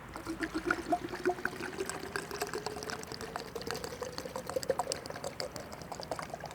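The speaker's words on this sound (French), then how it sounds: "On rajoute dans le canon mousse Maïté." Active foam liquid, a car-wash detergent, trickles and gurgles as it is poured into a foam cannon, a soft continuous bubbling dribble close to the microphone with no voices.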